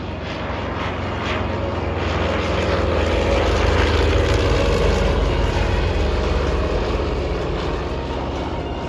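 An F-100 Super Sabre jet at an airshow makes a loud, continuous broadband roar that holds steady for several seconds, swelling slightly in the middle and easing toward the end.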